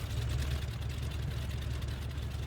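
A light aircraft engine in the VR flying game Ultrawings drones steadily at low pitch, a loud, even rumbling hum that holds constant with no pauses.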